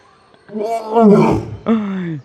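A lion at Bannerghatta Biological Park roars loud and close, two strong groaning bellows with a short gap between them, heard clearly with no talk.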